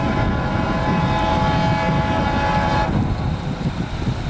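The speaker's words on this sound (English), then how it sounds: "the train would show itself pretty shortly, and we were not expecting what was about to roll by" A work train led by an SD23T4 locomotive rolls past close and loud, a heavy rumble of engine and wagons that eases slightly toward the end, with no voices.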